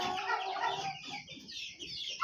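Several chickens cluck and squawk together in a busy, continuous chorus, fairly close, with no talking.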